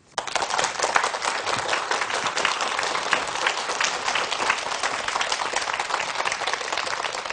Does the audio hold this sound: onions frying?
no